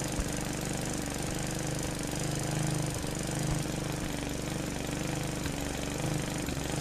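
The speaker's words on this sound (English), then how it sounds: "We're mowing the lawn." A lawn mower in Finnish Cottage Simulator chugs steadily, a loud, close, rhythmic engine putter with regular knocking pulses running continuously.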